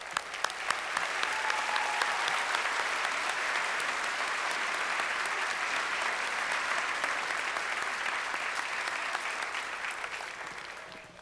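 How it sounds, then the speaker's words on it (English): Sustained applause from a university commencement audience, a broad, even wash of many hands clapping that continues without a break for over ten seconds. "Please join me in a round of applause for their hard work, guidance, and dedication to the success of our students and graduates."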